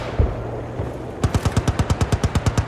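Automatic gunfire in the video game Battlefield Bad Company 2 with a tank nearby: a few scattered shots, then a loud, steady burst of roughly fourteen rapid rounds at an even rhythm.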